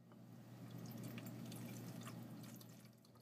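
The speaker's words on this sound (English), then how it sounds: "And then you're going to add some more water." Water pours steadily into a laboratory volumetric flask while a 1 M NaCl salt solution is being made, a soft continuous trickling splash heard close but quiet, with no talk.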